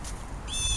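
A bird calls outdoors during a mild-weather walk by a river, a brief high chirp rising near the end over a steady background hum.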